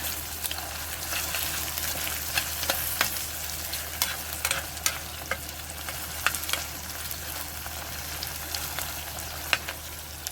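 Onions fry and sizzle in a pan with a continuous, close hiss, punctuated by irregular spatula scrapes and stirring clicks.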